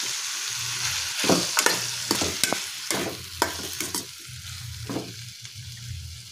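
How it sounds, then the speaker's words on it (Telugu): Ridge gourd pieces sizzle steadily in a hot pan while a spoon stirs and scrapes through them in irregular close knocks, with no talking. "ఇలా ముక్కలన్నీ బాగా మిక్స్ చేసుకొని ఒక 2 minutes ఫ్రై చేసుకోవాలి"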